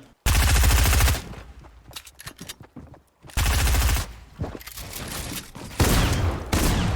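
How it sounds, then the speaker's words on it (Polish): Gunfire in the video game Fortnite, with loud bursts of rapid automatic shots in a few separate volleys and quieter stretches of scattered single shots between them. "Jeszcze drugi tutaj do mnie strzela."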